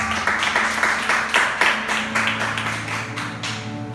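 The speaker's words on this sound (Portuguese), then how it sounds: "Aplaude os céus bem forte." Church congregation in Duque de Caxias clapping together in a steady rhythm of sharp claps, loud and close, with a low sustained tone beneath and a few voices mixed in.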